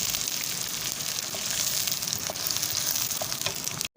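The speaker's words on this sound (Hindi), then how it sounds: "तो जैसे ही राई फूटना शुरू हो हम इसके अंदर प्याज डाल देंगे। प्याज को जो है वो हमने ब्राउन करना है।" Mustard seeds popping and onions frying in hot oil for Hyderabadi bagara baingan, a steady dense sizzle with a few sharp pops scattered through, close and fairly loud, with no one talking.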